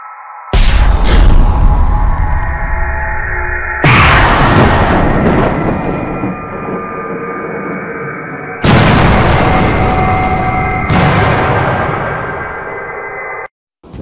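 Fuel pods are destroyed in a series of loud, close explosions: sharp blasts followed by long, rumbling roars that fade slowly, with a short silence near the end.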